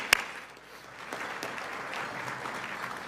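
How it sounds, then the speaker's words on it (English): Faint, scattered audience applause at an annual conference lunch and awards event, a light patter of clapping building slightly after a sharp opening tap. "Let's give him a round of applause."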